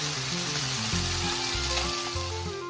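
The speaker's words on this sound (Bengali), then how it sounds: "একটু হালকা করেই ভেজে নিচ্ছি তাই জন্য।" Pabda fish fry lightly in hot oil in a pan, a steady close sizzle and crackle that stays loud and continuous throughout with no voices.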